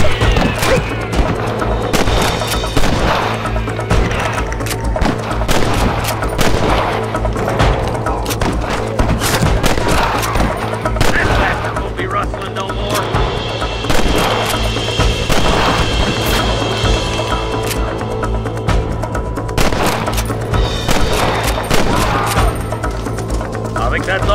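A gunfight in Red Dead Redemption: a dense, loud barrage of gunshots and impacts cracks and booms continuously, with shouting voices mixed in among the shots.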